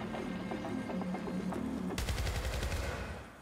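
Gunfire in the shooter game Syndicate: after a rumbling opening, a sharp burst of rapid automatic shots starts partway through and keeps rattling loudly to the end, with no talking.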